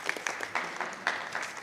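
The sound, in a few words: applause at school board meeting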